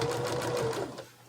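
Sewing machine running a steady continuous stitch around a flannel prayer quilt, loud and close, slowing and stopping near the end.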